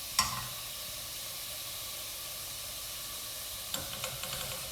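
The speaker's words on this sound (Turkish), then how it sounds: "Havuçları bir iki dakika daha kavurdum" Carrots for vegetable soup sauté in a pan with a steady, moderate sizzle and hiss, broken by a couple of brief stirring clatters.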